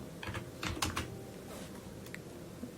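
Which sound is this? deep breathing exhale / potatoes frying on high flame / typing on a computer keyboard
typing on a computer keyboard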